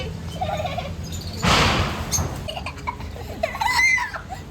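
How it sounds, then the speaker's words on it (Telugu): Several birds call and chatter nearby in bursts at a natural farm in Nacharam, Hyderabad, including a loud gobbling, squawking outburst partway through, with no talking. "ఇదిగోరా బర్డ్స్ ఉన్నాయి చూడు"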